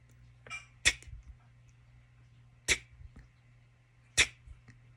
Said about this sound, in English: When you remove your tongue with the air, I guess you can call it a puff of air